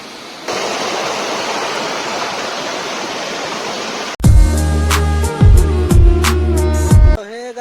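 A river in rain rushes hard over a village check dam, a loud, steady roar of churning water that runs for about four seconds before cutting abruptly to an unrelated stretch of music.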